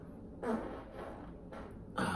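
A fart: two or three low, rumbling bursts, close and fairly quiet, with no talking.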